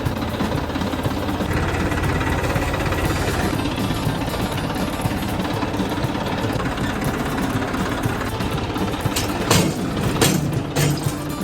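A tractor engine runs steadily while its loader scoops chaniyu manure into a cart in a village, a loud continuous rumbling clatter close by, with a few sharper knocks and rattles near the end and no talk.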